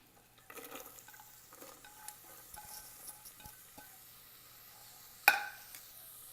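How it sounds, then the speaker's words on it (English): Chopped onions sautéing in an Instant Pot with cinnamon sticks, fennel and cumin seeds, soft sizzling and stirring scrapes, then a sharp metallic clank of a utensil against the pot near the end. "Onion is sauteed for a minute."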